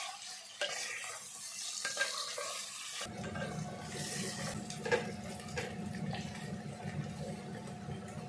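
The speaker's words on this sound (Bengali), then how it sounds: "এর মধ্যে আলুগুলো দিয়ে হলুদ আর লবণ দিয়ে আলুগুলো ভেজে রাখবো।" Potatoes frying in mustard oil with turmeric and salt give a steady close sizzle with stirring clatter, quieter for the first few seconds and then a louder, denser crackle from about three seconds on.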